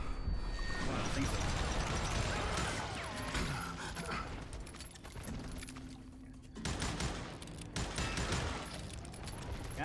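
Gunfire in the Western shooter game Call of Juarez: Gunslinger, a dense, busy barrage of shots and mechanical clatter running through most of the stretch, loud, with a brief lull midway and a game voice at times.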